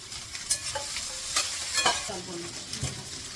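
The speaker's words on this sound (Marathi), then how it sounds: "कांदा बघा एकदम अर्धवट असा परतून घेतला त्यामध्ये टाकते भेंडी" Onion and okra fry in a pan with a constant sizzle, broken by several sharp spatula scrapes and stirs at irregular intervals, close and moderately loud.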